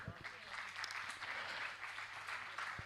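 Audience applause at a Hindi poetry recital stage event, a steady wash of many hands clapping at moderate distance, with some speech faintly mixed in beneath.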